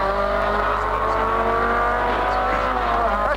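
A small racing car at the 1980 Bathurst 1000 heard onboard, its engine droning loud and close with rising and falling pitch as it revs through the gears, with faint broadcast sound mixed in.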